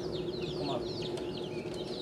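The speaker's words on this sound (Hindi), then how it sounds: "ये छोटे चूजे हैं।" Small chicks at a fancy hen farm in Faisalabad chirp continuously in a dense, overlapping chorus of high peeps, with a steady low background hum beneath them.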